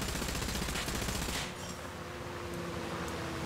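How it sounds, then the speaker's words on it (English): Rapid machine-gun fire from a small boat in War Thunder's naval combat, a dense, continuous rattle of bursts that stays steady and loud for the whole stretch, with no voices. "Look, I'm firing machine guns at him."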